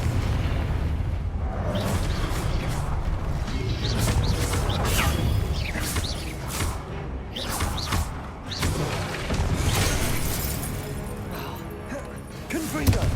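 Confringo fire spell blasts in the Hogwarts Legacy video game: booming explosive bursts and whooshes thunder through a dense, loud combat mix, with voices talking over the action.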